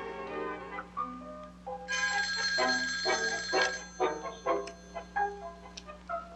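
An electronic telephone ringtone chirps repeatedly in a bright melodic pattern, an incoming call ringing on a late-night radio show, loud and close with no talk over it.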